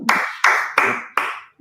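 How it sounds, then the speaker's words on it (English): Four sharp, evenly spaced hand claps close to the microphone at the end of an online women's blockchain gaming broadcast, each one decaying quickly before the next, with no voices. "A big round of applause."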